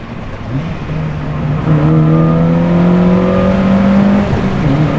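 A Honda Fit with a manual gearbox revs loudly as it goes through downshifts, each blip giving a rising then falling engine note that stays steady and close, with no talking over it.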